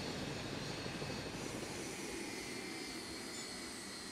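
Helicopters fly overhead in the Cold War strategy game WARNO, a continuous loud engine and rotor roar with steady broadband rush and no talk.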